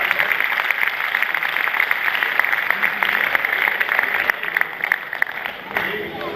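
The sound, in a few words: audience applause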